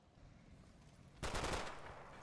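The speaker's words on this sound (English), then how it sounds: "we're only receiving sporadic machine gun fire in the advance" Sporadic machine gun fire in the World War II strategy game Combat Mission: after a quiet stretch, a single short, distant burst of rapid shots rattles out and fades into a faint tail.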